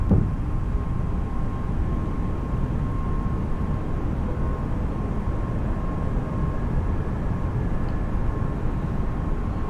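An Airbus A320neo climbs after takeoff in a flight simulator game, giving a steady, loud low-frequency roar of engines and air with a faint constant tone throughout.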